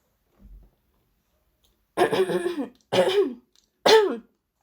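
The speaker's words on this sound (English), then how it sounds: "I just had to clear my throat for a second there" Someone clears their throat three times in quick rough bursts after a brief soft thump, close and fairly loud with quiet gaps between.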